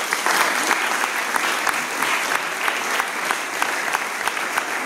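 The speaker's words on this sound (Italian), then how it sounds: "Un applauso." An audience at a festival event in Lugano claps steadily and warmly for several seconds, dense handclaps filling the hall at a fairly loud, even level.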